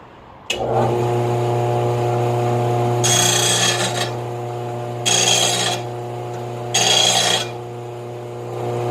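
Blade sharpened on its back side against an abrasive on a motorized sharpener: a steady machine hum runs throughout, with three loud rasping passes of a few seconds each, close and alone.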